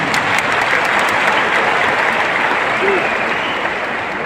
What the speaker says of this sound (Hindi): तो एक जोरदार ताली होनी चाहिए सारे जिंदगी के